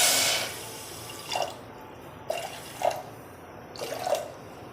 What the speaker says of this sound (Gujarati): ખાંડ ડૂબે એટલું પાણી નાખવાનું અને એને ગરમ કરીશું।